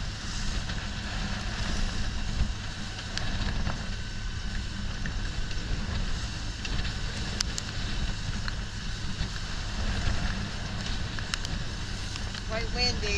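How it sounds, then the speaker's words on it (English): Steady wind rushing and buffeting across the microphone aboard a sailboat on Albemarle Sound, with a low rumble throughout and occasional voices underneath. "Quite windy."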